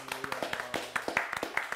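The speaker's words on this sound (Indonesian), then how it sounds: "Tepuk tangan dulu dong, guys." Hands clap in quick succession on a podcast set: a brisk run of sharp, close claps, roughly a dozen in under two seconds, with a faint voice murmuring beneath.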